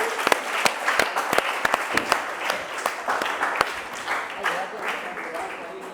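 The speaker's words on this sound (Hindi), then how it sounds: "ताली बजाएं मैम के लिए।" Applause for a teacher at a school prize announcement for a class 7 English debate: steady clapping from a room of students with sharp individual claps standing out close by, fading slightly toward the end.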